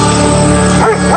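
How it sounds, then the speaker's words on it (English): A dog barks and yips frantically in a rapid, continuous run, loud and close, over a steady droning background at an eyewitness encounter scene. "The dog ran ahead, barking frantically."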